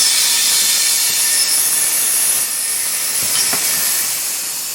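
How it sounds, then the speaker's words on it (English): Compressed air from a Weaver W-894XS tire changer hisses steadily and loudly into a tire as it is inflated, a continuous broadband rush that fades slightly toward the end. "So we're just going to go ahead and put air to it."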